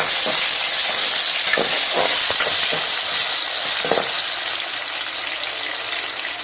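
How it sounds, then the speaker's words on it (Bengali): Food frying and being stirred in a pan, a loud continuous sizzle up close with several scraping stirs breaking through in the first few seconds. "একটু নাড়াচাড়া করে ভালোভাবে নাড়াচাড়া করে ভেজে নিলাম।"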